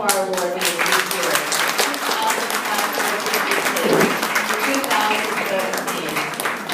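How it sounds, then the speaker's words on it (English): An audience at an International Women's Day award ceremony applauds the award winners in a loud, sustained round of clapping with faint voices mixed in. "May we have a nice round of applause for all of our award winners this year"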